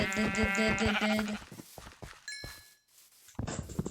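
Sheep bleating in the video game Minecraft, several short bleats over busy game sounds and chimes, fairly close and loud, with a pause before more game noise returns.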